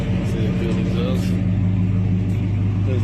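A 1986 Chevy Silverado truck runs with a steady low engine and exhaust drone, close and fairly loud, while someone talks over it.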